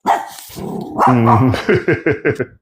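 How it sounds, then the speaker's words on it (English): A dog barks close by, opening with a growly whine and then a quick string of sharp, loud barks at a steady rhythm, with no speech over it. "I do apologize for my dog barking."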